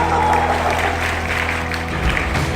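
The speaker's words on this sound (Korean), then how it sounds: "박수를 보내주세요." Wedding guests applaud at a ceremony without an officiant, a steady wash of clapping that fills the whole moment at close range with little talk.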